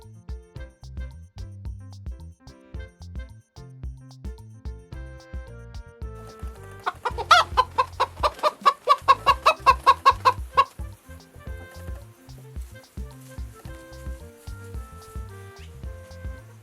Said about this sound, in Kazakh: Тауық. Тауықтың төлі балапан.